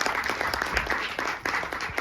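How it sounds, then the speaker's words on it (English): Applause from a live audience welcoming the cast and creators of the TV series Found: dense, continuous clapping that fills the room at a steady, moderate level. "One more round of applause, please,"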